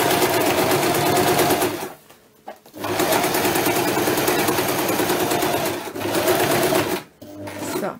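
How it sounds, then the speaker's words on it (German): Sewing machine stitching a fold on a denim jeans bag in long loud runs, with two short pauses between bursts. "Füßchen runter, nähen fest."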